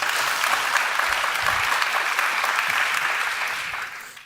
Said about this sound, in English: Give them all a round of applause, please